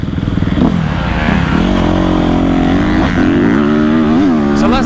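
A Honda motocross dirt bike engine revs loud and close, its pitch rising and falling in waves over a steady buzzing idle, alone without voices.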